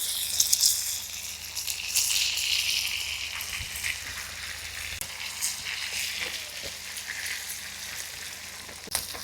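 Seer fish fries in a pan of oil with a soft, steady sizzle and crackle that rises and falls over several seconds, with some faint clatter and no talking.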